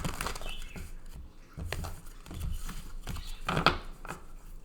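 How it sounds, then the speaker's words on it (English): Quick bursts of papery riffling repeat in short bouts, close by, with soft flutters and taps between them, like a card deck being shuffled several times. "I'm going to give these cards a nice"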